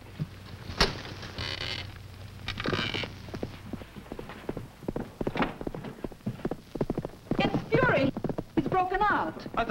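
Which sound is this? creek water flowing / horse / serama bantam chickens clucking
horse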